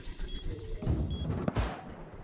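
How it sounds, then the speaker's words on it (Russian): A pipe shotgun in the survival game Rust fires with a sharp, booming blast, followed by a second burst of gunfire shortly after, over quiet game ambience. "Ну ничего, у меня есть пайп. Один выстрел."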